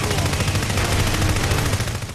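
Grenade launcher firing in the video game NeverDead, a loud, dense burst of rapid booming reports blurring into one continuous roar over about two seconds.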